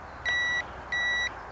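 A JJRC H31 waterproof sport drone beeps while binding to its remote: two steady, high electronic tones, each lasting about a third of a second and spaced roughly half a second apart, clear and close over faint background hiss.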